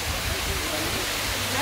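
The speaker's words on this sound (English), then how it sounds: "It looks like a real waterfall, but of course it's not real." Artificial waterfall at Shees Park in Khorfakkan, a steady broad rushing of falling water that stays loud and constant throughout, with a low rumble underneath.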